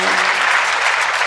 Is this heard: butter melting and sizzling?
no